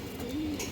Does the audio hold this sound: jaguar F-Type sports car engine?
no